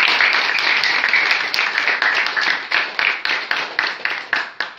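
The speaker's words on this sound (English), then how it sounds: "So let's give her a round of applause." A class of students applauds after a debate, loud and close, with the clapping thinning out into slower, separate bursts as it winds down.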